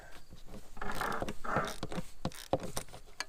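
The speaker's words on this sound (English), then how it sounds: "Then we'll take our ratchet, just like we did when we took it out" Close, crisp ratchet clicks in quick irregular runs as a ratchet wrench tightens an oil filter on a 2009-2017 Chevrolet Equinox, with metallic pawl ticks and handling noise.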